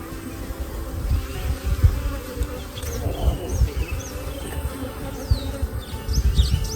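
Honeybees buzz in a dense, steady swarm around hive frames being checked for capped honey, a close continuous drone with a few faint bird chirps in the background.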